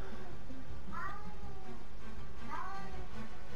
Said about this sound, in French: Je sais pas si vous entendez mon chat.